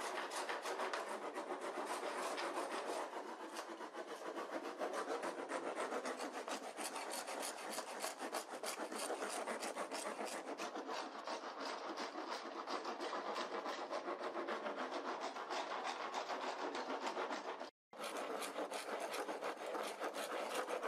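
Laminated wooden boat nose bows are trimmed down to the plywood with steady, continuous rasping strokes that run almost the full length and stop for a brief moment near the end. There is no talk.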